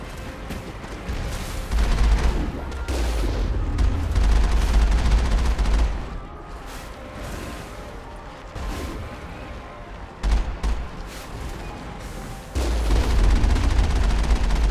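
Gunfire and heavy explosive booms in the sci-fi shooter game Mass Effect 1, dense, rumbling bursts of fire that swell and drop in loudness, fairly loud and continuous.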